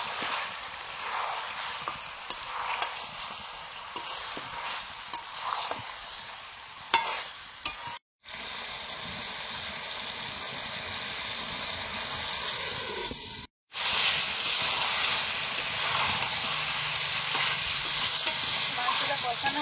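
Chicken sizzling in a pan with whole onions and slit green chillies while being stirred, a continuous fry hiss with scraping stirs and a couple of brief gaps.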